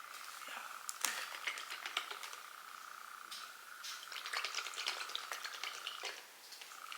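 Thick seafood boil sauce being stirred and mixed in its container, soft wet sloshing and clicking scrapes in irregular bursts, close and fairly quiet.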